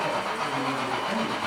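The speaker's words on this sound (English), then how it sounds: "like that steam engine on the siding is pulling out, they'll start up with gradual acceleration" An American Flyer S-gauge model steam locomotive pulls off a siding with gradual acceleration, giving a steady, dense mechanical rushing and whirring that stays loud and even throughout, with no talking.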